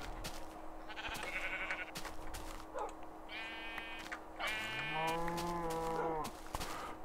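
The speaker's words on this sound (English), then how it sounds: "Alright, let's go shear some sheep." Sheep in the Adventure Time video game bleat several times in a row, clear and fairly close, with overlapping wavering calls over a quiet background hum.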